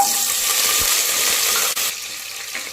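Ten small onions and a sprig of curry leaves hit hot oil with mustard seeds and dal, giving a loud steady sizzle that eases a little toward the end, no voices.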